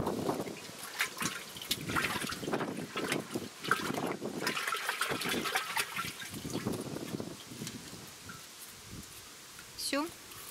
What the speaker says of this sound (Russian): и буду мыть чеснок